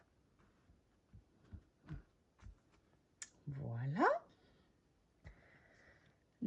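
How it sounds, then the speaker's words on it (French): Scissors snip through double-sided tape at a craft table, giving a series of sharp, close clicks and short scraping cuts, with a single spoken word heard briefly. "ciseaux qui me cassent les oreilles"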